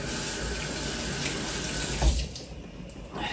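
Tap water runs steadily into a sink while something is washed under it, a close, continuous splashing that eases off briefly near the end, with no talking.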